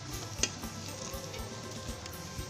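Cicadas frying in a hot pan of oil, with a continuous close crackle and sizzle broken by a few sharp pops and light clinks of a utensil against the pan.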